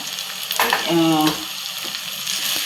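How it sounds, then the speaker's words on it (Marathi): Spice masala of coriander powder and red chili powder sizzles in a hot pan for pav bhaji, a steady close frying hiss with brief stirring and scraping sounds. "तर मसाला आहे ना असा फ्राय करून घ्यायचा"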